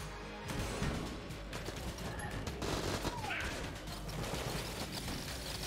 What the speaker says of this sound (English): Not only do we get double damage, but we fire about a bazillion shots.